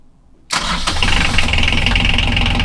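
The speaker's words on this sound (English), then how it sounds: "Start the engine." A boat's engine, silent for nearly a decade, cranks and catches abruptly, then settles into a loud, steady rumbling idle close by.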